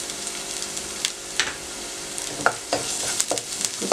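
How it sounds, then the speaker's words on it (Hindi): Garlic paste fries with onions in a pan, giving a soft sizzle broken by scattered stirring clicks and scrapes, with no talking. "फ्राई करें"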